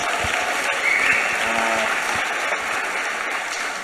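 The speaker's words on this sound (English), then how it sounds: "Let's give a round of applause, guys." An audience at a live Web3 event applauds, a continuous wash of clapping from many hands that stays fairly loud and even for a few seconds, with a few sharper individual claps standing out.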